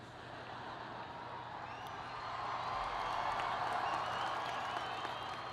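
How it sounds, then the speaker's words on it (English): A graduation crowd applauds and cheers during a Barack Obama commencement speech, with broad clapping that swells louder midway and carries on steadily. "that shouldn't get such a big cheer."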